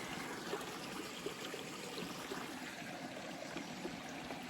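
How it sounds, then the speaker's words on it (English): A woodland stream flowing at a campsite, a continuous soft babbling and trickling wash of water at moderate distance, steady throughout with no voices. "I thought I heard a body of water."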